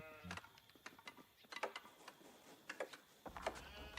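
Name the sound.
sheep bleating in a video game (Age of Empires)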